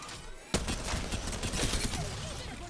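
Rampart's mounted minigun in Apex Legends kicks in abruptly after a brief pause, then keeps up a loud, sustained stream of rapid fire.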